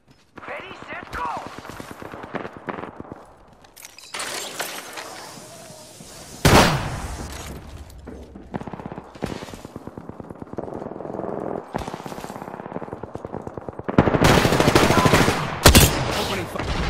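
Gunfire in an online shooter video game, rapid automatic bursts and loud single shots recurring across the clip with sharp explosive cracks near the middle and end, under occasional game voice callouts.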